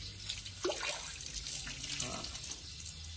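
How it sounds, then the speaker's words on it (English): A garden hose with its outlet half covered by a thumb sprays water in a steady, hissing, slightly sputtering stream, with a brief splashy surge early on and faint talk mixed in. "The speed of the water increases."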